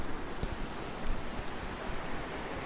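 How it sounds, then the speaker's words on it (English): A waterfall in Australian bush near Burnie pours continuously, a dense, even rushing roar with no pauses, steady and fairly close throughout. "very relaxing to hear the water falling"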